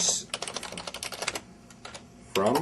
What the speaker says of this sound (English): let me now try and write exactly the same query, but this time against relational data